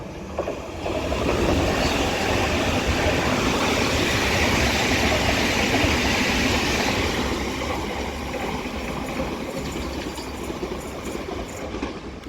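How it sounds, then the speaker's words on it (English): A London Underground Metropolitan Line S8 stock train bound for Baker Street from Watford passes through Dollis Hill station, its loud, steady rumble and wheel noise sustained throughout before easing slightly toward the end. "Now passing through is going to be another London Underground Metropolitan Line S stock, S8, which is off to Baker Street from Watford"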